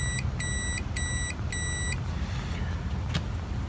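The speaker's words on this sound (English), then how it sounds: "a continuity check with tone" A continuity tester sounds four short, evenly spaced electronic beeps while checking the speaker of a Crosley 66TC radio, then goes quiet over a low hum.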